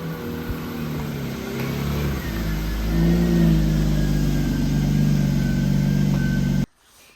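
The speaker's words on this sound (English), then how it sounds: "Jordy's gonna pull his car in right now" A car pulls into a garage with its engine droning steadily nearby, swelling into a louder rev partway through before cutting off abruptly at the end, with no one speaking.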